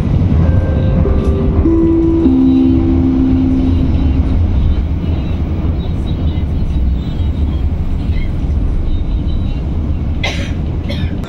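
The Baturraden Ekspress passenger train arrives at Kroya station with a continuous low rumble of wheels and carriage noise, descending brake-like tones early on and faint clatter near the end.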